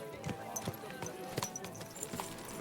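Horse hooves clip-clop on a road in Kingdom Come: Deliverance II, several distinct irregular clops fairly close against a quiet medieval town backdrop.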